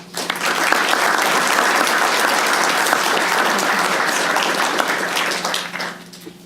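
An audience at a Utah history award lecture breaks into sustained applause welcoming the speaker, dense, even clapping from a roomful of people that holds steady for several seconds before tapering off.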